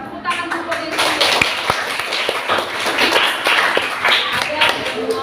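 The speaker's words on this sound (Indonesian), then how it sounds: "Tepuk tangan dulu dari sini." A classroom of students claps hands together during a lesson in a burst of sharp, close claps, with voices talking over them.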